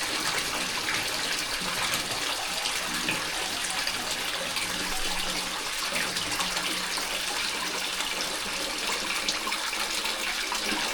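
Water pours steadily into a 900-gallon aquarium tank system with 27-gallon reservoirs, a continuous broad rushing gush that stays close and even throughout with no talk.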